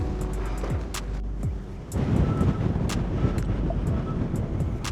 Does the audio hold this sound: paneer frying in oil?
no